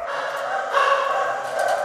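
Dogs staying as temporary guests at a shelter run like a holiday resort greet visitors with a steady, dense wash of barking and yipping that keeps going throughout and grows a little louder partway through.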